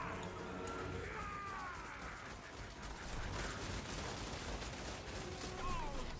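Ratling gun from Total War: Warhammer II firing in a dense, continuous rattling barrage, with battle noise and crashes all around it at steady loudness throughout.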